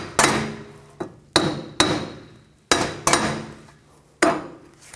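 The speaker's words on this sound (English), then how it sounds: "Now take a hammer and give it a tap from the back side." Sharp metallic hammer taps strike a 2007-12 Nissan Altima front wheel hub from the back side at uneven intervals, each ringing briefly before the next blow, close and loud.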